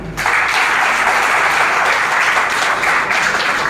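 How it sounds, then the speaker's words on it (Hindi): Audience applause at a Uttarakhand community organisation's folk dance event in Delhi, loud and sustained broadband clapping from a large crowd filling the whole few seconds without talk. "ये जितने भी एक्टिव मेंबर हैं उनके लिए जोरदार तालियां।"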